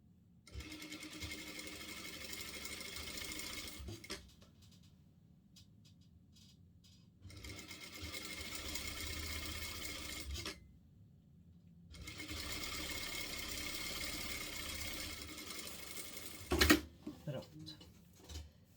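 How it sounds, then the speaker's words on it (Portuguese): A sewing machine stitching a hem on a baby bib, three runs of fast steady whirring separated by pauses, close and clear, followed by a few clunks at the end. "vou fazer uma costurinha de um pezinho de máquina"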